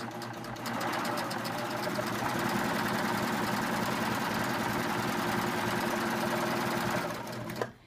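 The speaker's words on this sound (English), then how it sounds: "I'm going to start out serging just a little bit of fabric, or taking just a little bit of fabric off with my blade." A Baby Lock serger runs steadily for about seven seconds, overlock-stitching fabric while its blade trims the edge. The whirring is close, loud and continuous, then stops abruptly near the end.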